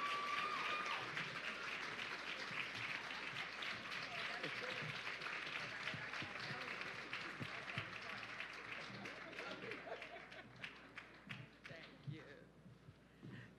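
Audience at Arts High School applauding acting New Jersey Governor Sheila Oliver at a Census 2020 kickoff event; dense, steady clapping fills the room and slowly tapers off toward the end.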